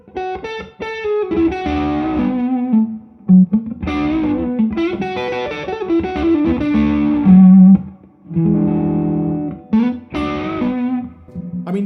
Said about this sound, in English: So if we compare that to the Nobles, which is, I already know,